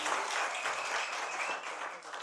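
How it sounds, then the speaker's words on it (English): Audience applause for a slam poet at a poetry competition, a dense wash of clapping from a crowd, fairly faint and steady for a couple of seconds. "A round of applause for Kwame."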